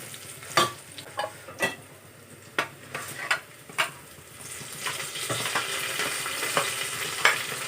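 Four large sliced onions fry in a pan for chicken biryani, a soft steady sizzle broken by sharp clinks and scrapes of a spoon stirring, with the frying hiss growing fuller in the later seconds.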